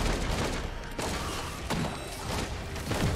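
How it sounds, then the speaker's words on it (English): Dense, continuous crackling blasts of fireworks in Risk of Rain 2, loud and layered with sharp pops over a steady roar of game combat. "Hey, more fireworks."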